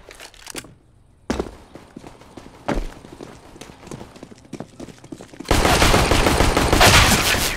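Bursts of gunfire ring out in a Counter-Strike match, scattered single shots and short volleys followed by a loud, sustained stretch of rapid firing near the end, with light footsteps between.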